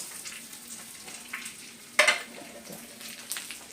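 Curry leaves, green chillies and pepper sizzle in a hot pan for a Kasaragod elissery curry, a steady soft frying crackle with one sharp louder burst near the middle, no talk.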